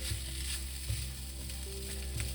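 Fried rice sizzles steadily in a hot pan as it is stirred and its clumps broken up, with a loud continuous hiss and occasional scraping knocks from the stirring, no talking.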